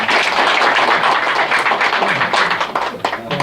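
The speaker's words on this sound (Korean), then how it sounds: "우리 김문수 지사님께 다시 한번 박수" Applause from an indoor audience at a North Korean human rights committee gathering, a dense continuous wash of clapping filling the whole stretch without pause, loud and close.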